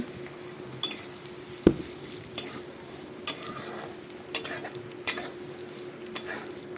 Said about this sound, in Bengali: মুসুরি ডালটাকে একটু ভেজে তারপর শাকগুলোকে দিয়ে দেব